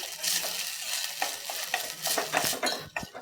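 Varai is roasted in ghee with cashew and almond pieces, a busy sizzle broken by repeated scraping and clinking of a spoon stirring the pan, uneven and fairly close.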